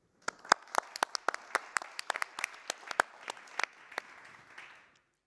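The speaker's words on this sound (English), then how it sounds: "Please clap for Cosmin" Audience applause in a hall at a youth essay competition event, sparse individual claps spreading into a brief round that fades after about five seconds, moderately distant and with no talk.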